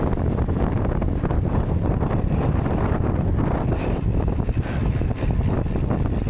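Strong headwind buffets the microphone outdoors on a cross duathlon course, a loud continuous roar and rumble filling the whole stretch with no talk over it.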